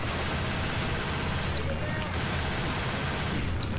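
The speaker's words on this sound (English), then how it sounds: "Because I'm shooting fire ammo." Continuous gunfire from a weapon loaded with fire ammo in the video game Left 4 Dead 2, a dense, unbroken rattle of shots that stays loud for the whole stretch.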